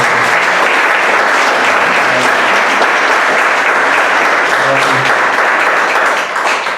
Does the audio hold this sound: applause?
yes